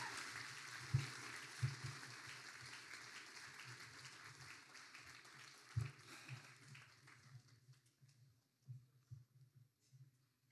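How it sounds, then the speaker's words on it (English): Crowd applause at a Year 12 high school graduation ceremony at Aspley SHS, broad sustained clapping from a large audience that gradually thins and fades toward scattered claps, with no speech over it. "Please give her a round of applause."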